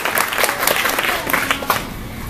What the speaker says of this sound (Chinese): 给他们一个掌声